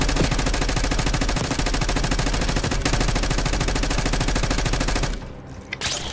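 Rapid automatic gunfire from Call of Duty: Black Ops 6 hammers away in a loud, unbroken stream of shots, then drops off abruptly near the end, leaving a few scattered sounds.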